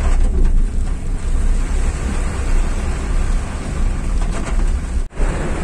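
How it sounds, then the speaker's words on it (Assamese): Heavy rain comes down on a road in Jorhat, Assam, a loud, dense, unbroken roar with wind buffeting the microphone and a brief dropout near the end. "ভাল বৰষুণ দিছে কৈছো নহয়"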